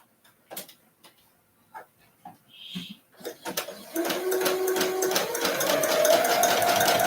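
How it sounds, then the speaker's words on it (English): Serger sewing a sleeve seam, starting after a few light handling clicks and then running as a fast, steady, close mechanical chatter that rises slightly in speed. "Then I'm going to do it with my serger."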